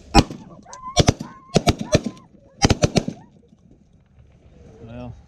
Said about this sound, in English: Well, I shot twice at the widgeon,